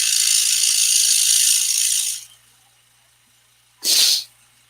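A long, hissing rush of breath is followed by a sharp, explosive sneeze close to the mic, with quiet in between.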